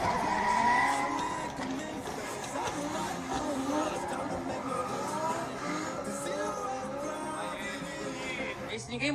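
A Formula Drift car sliding through a practice run, with sustained tire squeal and engine roar merging into a dense, loud wash that never lets up.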